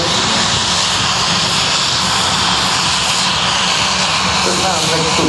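Patrouille de France jets flying at the Le Bourget air show, banking into a break: a loud, steady broadband roar of jet engines fills the whole stretch without letting up, with commentary faintly under it.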